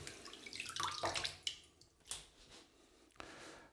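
Water running into a natural sausage casing at a sink, a short hissing trickle followed by wet squishing and a few soft splashes, fairly faint and close, no talk.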